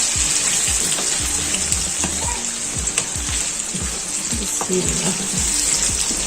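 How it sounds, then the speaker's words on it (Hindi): Potatoes fry in a spicy masala in a pan while cooking aloo kaleji, a potato and liver curry. A steady, close, bright sizzle carries on throughout, with occasional soft stirring clicks and no voices. "हल्का सा हम लोगों ने आलूओं को फ्राई करना है इसी मसाले में"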